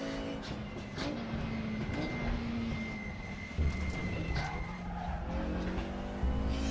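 In the RaceRoom racing game, a Mercedes 190 Evo engine on a hot lap of the Nordschleife holds a continuous buzzing drone whose pitch rises and falls through gear changes, heard alone at moderate loudness.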